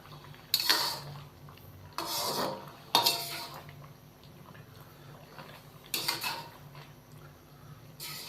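A spoon scrapes and clatters against a pan while chicken karahi with chopped green chillies is mixed, several sharp strokes separated by quieter stretches, close and fairly soft.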